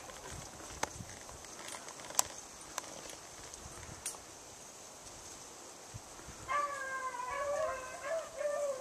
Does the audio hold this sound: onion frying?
no